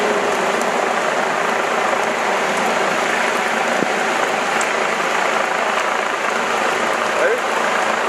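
Steady heavy rain beats down on outdoor equipment, a loud, dense, continuous patter with no break, and talk faintly mixed in beneath the downpour.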